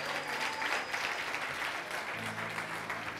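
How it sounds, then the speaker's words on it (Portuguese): A congregation claps steadily, a moderately faint wash of applause heard from a distance, with a faint sustained tone near the end. "dale un aplauso al Señor."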